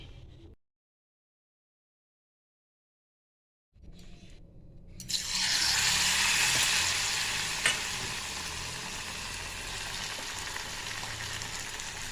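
Cabbage fritters frying in a small wok. After a stretch of silence and a short faint noise, a bright, steady sizzle of hot oil rises and continues close by.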